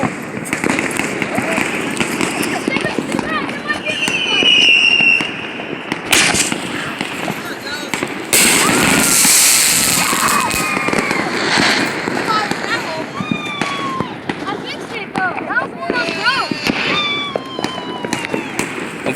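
Fourth of July fireworks go off in rapid, loud, crackling bursts with whistling rockets and popping reports that continue throughout. People talk and shout over the noise.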